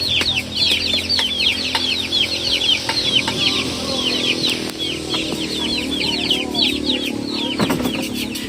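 Chickens cluck steadily at close range on a rural farm during a nature trip, with many overlapping short calls and occasional wing flaps, and no talking.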